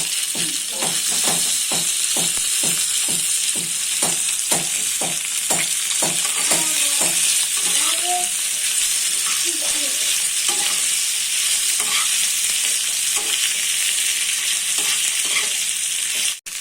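Ginger paste sizzling and frying in a pan while being stirred, with a rhythmic series of scraping stirs over a constant hiss in a village kitchen.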